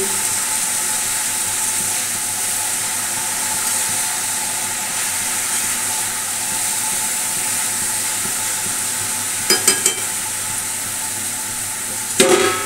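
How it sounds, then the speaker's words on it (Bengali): Food with chillies cooking under a lid on low heat, a steady close sizzle and hiss that runs throughout, broken near the end by a couple of brief metallic clatters. "এবার একটুখানি চাপা দিয়ে লো স্টিম করে বসিয়ে দেব।"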